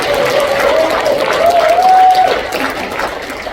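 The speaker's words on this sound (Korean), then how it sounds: "동의하시면 큰 박수로 동의하셨으니까" Loud, sustained applause from a crowd at a Korean civic-groups gathering, dense clapping that swells and then tapers off, with a thin wavering tone riding over it.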